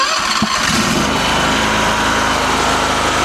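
A 439cc V-twin engine on a Starvox mini skid steer runs loud and close, sputtering briefly before settling into a steady rattling, pulsing idle.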